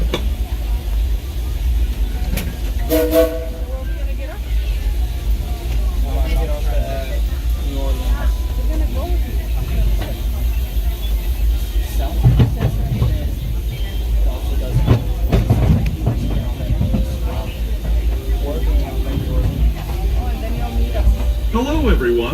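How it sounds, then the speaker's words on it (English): Disneyland Railroad steam train pulled by locomotive Ernest S. Marsh, riding at night, with a steady low rumble and rolling wagon clatter, brief hissing bursts and people talking over it throughout. "Thanks for joining us on the Disneyland Railroad."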